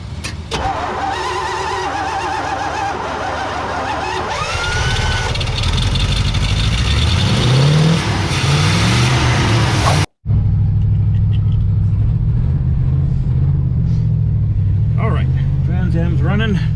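A Pontiac Trans Am, jump-started with cables, cranks and fires up, then settles into a loud, steady rumbling idle close by, with people talking over the engine.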